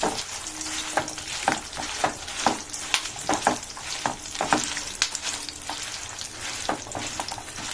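Dried red chillies fry on low heat in a pan for mint chutney, giving a steady soft sizzle broken by frequent sharp scrapes and clicks of stirring, close up and with no voices.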